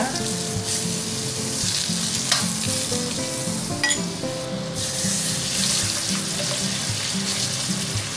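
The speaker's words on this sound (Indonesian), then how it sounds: "Nah, ini kita masukin menteganya." Butter sizzles as it goes into a hot pan for soy-sauce chicken, a loud, steady frying hiss with stirring clinks and scrapes, and no voices.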